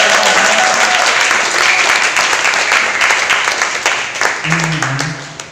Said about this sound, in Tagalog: yung malakas na palakpak